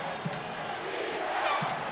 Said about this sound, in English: The Magic have to deal with this raucous Summit crowd.